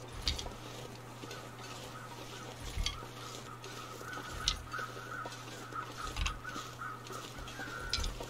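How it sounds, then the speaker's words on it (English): Crows cawing outdoors at a distance, several scattered calls over a low steady hum, with some faint rustling between them. "Birds are going crazy around here."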